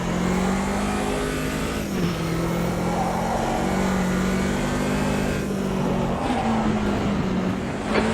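A vintage touring car's engine races hard in Automobilista 2, revving loud and close with rising pitch sweeps and brief dips at gear changes, a continuous roar with no talking.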